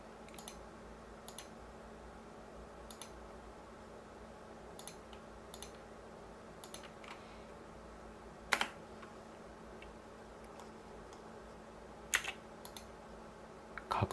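A computer mouse clicks while working in Inventor drawing software, giving sparse, sharp, close clicks at irregular intervals over a faint room hum, with no talking.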